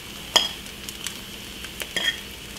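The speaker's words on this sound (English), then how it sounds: "So you put your tomatoes in." Chopped tomatoes go into a pan with an egg white omelette cooking, giving a faint steady sizzle under a few sharp utensil clicks and taps against the pan.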